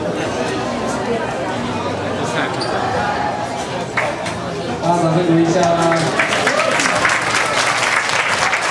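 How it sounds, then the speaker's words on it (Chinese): An audience at a gathering claps, with steady applause running throughout and growing louder partway through, under a speaking voice and crowd chatter. "掌声鼓励一下。"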